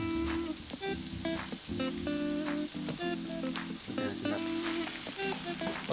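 Onion frying in hot oil, a steady crackling sizzle up close with bursts of spattering, accompanied by a pulsing, intermittent tone in the background.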